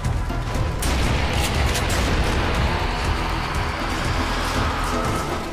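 Gunfire in the co-op zombie shooter game Sniper Elite Nazi Zombie Army, rapid overlapping shots and booms forming a dense, continuous barrage of loud game combat noise.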